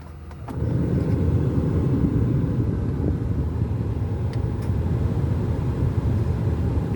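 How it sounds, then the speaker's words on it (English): A 2004 Lincoln Town Car's air-conditioning compressor clicks on, and a steady low engine-like rumble with blower noise fills the cabin and holds until the end. "You might have heard the compressor kick on."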